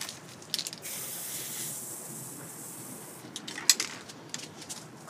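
An aerosol spray paint can gives short hissing bursts to clear its nozzle. The sprays are close and sustained, with brief clicks and gaps between them.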